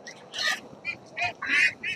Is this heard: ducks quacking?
yes